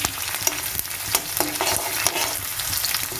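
Steady crackling sizzle of chopped onion with bay leaf and dried chilli frying in hot oil, punctuated by several spatula scrapes and taps against the pan, close and without talk.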